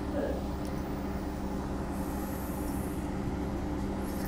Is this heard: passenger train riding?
yes